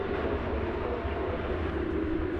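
A Boeing 737-800 departing Dallas Fort Worth Airport for Kansas City, its engines giving a steady, dense roar that holds at an even level through the short stretch with no voices.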